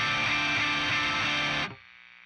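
An electric guitar plays a sustained, heavily distorted chord through a Tornado Drive-style main distortion pedal, loud and buzzing, then cuts off abruptly, leaving a faint hum.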